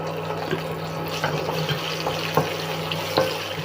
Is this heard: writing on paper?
no